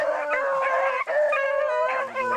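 Hunting dogs bay on a hot rabbit scent in open fields. Several loud, close, overlapping howling voices carry on continuously with no talk.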